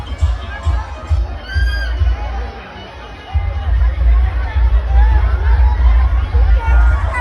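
A festive crowd gathers at a traditional village celebration in Raave, Maharashtra, with loud hubbub, children shouting and cheering. A whistle-like tone cuts through briefly, and the noise swells and then stays lively and close.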